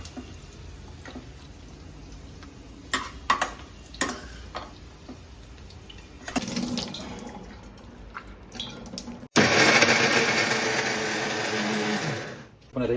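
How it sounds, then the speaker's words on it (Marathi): A mixer grinder blends a cashew-rich masala paste for Lucknowi chicken. After a stretch of clinking and talk in the kitchen, it roars loudly and steadily for about three seconds, then cuts off. "आता हे मिक्सरच्या भांड्यात मी टाकतो."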